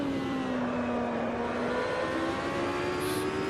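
Race car engine held flat out on a lap through a fast kink and into a corner, a steady close engine drone with a rising pitch that shifts near the end as it comes off the throttle.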